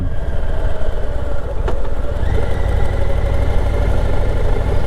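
A Harley-Davidson Low Rider ST motorcycle engine idles at around 1400 rpm with a steady, low throb, loud and close, rising slightly in pitch partway through.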